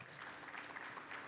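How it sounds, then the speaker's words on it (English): Audience at a Formnext pitch event applauding, a short burst of even, moderately distant clapping from a small crowd. "Big applause for you"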